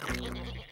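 A single short, nasal cartoon sheep bleat in Maisy Mouse, close and fairly loud, lasting under a second.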